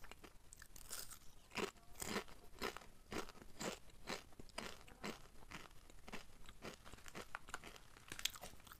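Crunchy Indonesian keripik chips being bitten and chewed up close, with a steady series of crisp crunches and crinkling bursts, no talking.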